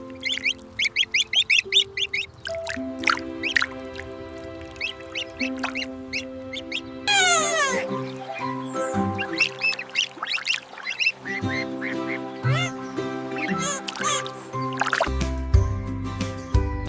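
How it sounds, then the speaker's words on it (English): Cartoon-style quacking in a children's animation plays over music, with rapid, bright duck calls in a quick series at the start and more quacks and honks scattered through a busy musical background. "Quack."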